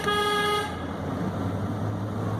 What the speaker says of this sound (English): so here's the sound of the new horn, which is a low tone.